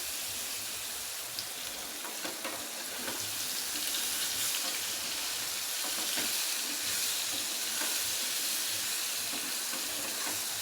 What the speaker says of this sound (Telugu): అంటుకోకుండా చక్కగా ఫ్రై అవుతుంది పన్నీర్ కూడా ఫ్రెష్ది మంచిది తీసుకోవాలండి